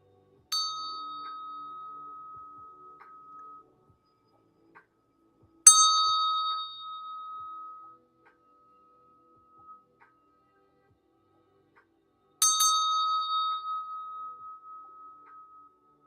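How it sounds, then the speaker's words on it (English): A bell is struck three times at a new moon gathering, each strike ringing out clearly and then slowly fading before the next one, with nothing else heard around it. "So you're gonna hear like a loud noise, but it's just the bell"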